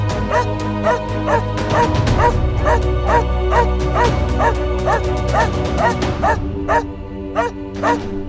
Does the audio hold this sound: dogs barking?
yes